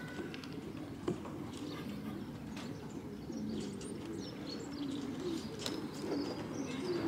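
A racing blue cock pigeon arrives home after a 117-mile flight, with soft low cooing from pigeons nearby over a steady outdoor hum and occasional faint chirps and clicks.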